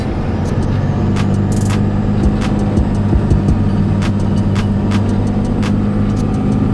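Car powered by a Chevrolet 454 big-block engine driving on the road, a loud, constant low engine drone and road rumble heard from inside, with a few brief clicks and rattles.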